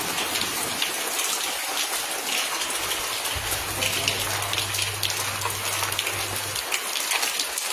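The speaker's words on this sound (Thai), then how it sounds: "ฝนตก ฝนตกฝนตกฝนตก" Steady light rain patters on surfaces near a house, an even wash of drops holding the same level from start to finish with no talking.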